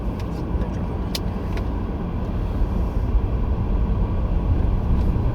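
Steady low road rumble of a car driving through Ancaster Crossroads in the UK, heard continuously from inside the vehicle with a few faint clicks.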